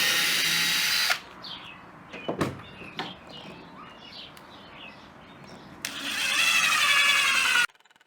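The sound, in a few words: power drill driving screws into wood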